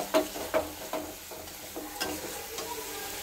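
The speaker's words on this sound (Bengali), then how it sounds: "এবার এটাকে তেলের উপরে শুকনো শুকনো কালচে কালচে ভাবে ভেজে নিতে হবে।" Greens paste frying in oil until dry and darkened, with a steady low sizzle and several brisk scraping stirs of a spatula in the pan, close and fairly quiet with no talk.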